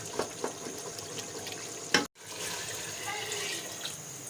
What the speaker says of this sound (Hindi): ये 4 ग्लास हमने ऐड कर दिए हैं इसमें पानी के।